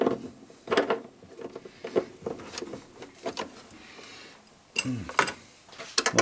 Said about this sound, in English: Now, where did that adjustable wrench go? Let's see, can we break you free?